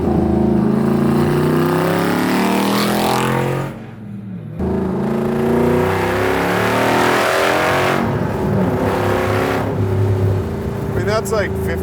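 A Superformance MkIII Cobra R with a 5.2 Aluminator engine revs hard and loud, its pitch climbing and falling through repeated pulls, with one brief lift off the throttle and voices heard over the engine.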